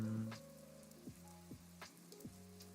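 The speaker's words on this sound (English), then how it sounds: "So this is the rain." Rain plays as a sound effect in the Urban Farmer video game, a faint, soft patter beneath gentle descending musical tones.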